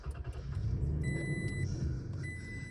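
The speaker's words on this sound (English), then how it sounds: "So start the truck." A third-generation Toyota truck engine running at a low, steady rumbling idle, with thin electronic warning chimes beeping intermittently above the engine drone; no talking.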